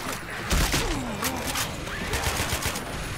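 Gunfire from the video game Left 4 Dead 2 on the Death Toll campaign in realism mode, with rapid bursts of shots over game ambience and a voice talking faintly underneath.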